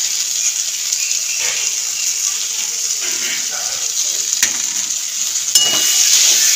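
Ground roasted spices are mixed into an eggplant and potato curry frying in a pan. A continuous hiss sits under irregular scraping and clattering stirs, and the sizzle grows louder near the end.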